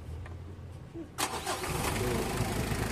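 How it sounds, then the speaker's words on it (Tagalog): A Mitsubishi L300 van's engine, just checked after its injection pump was lowered, cranks briefly and catches, then settles into a steady rough idle close by. "Kaya i-check ko yung starting nito mga boss, i-switch off ko itong makina."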